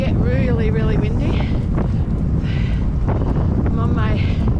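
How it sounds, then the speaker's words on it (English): Strong wind buffets the microphone outdoors during a training session, a constant loud roar with gusty swells, while a person talks over it. "It is so windy out here"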